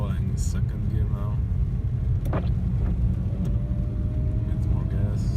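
A BMW with a rattling fault drives and accelerates in second gear: a steady, close engine and road rumble with faint intermittent clicks and rattles, and a voice speaking over it.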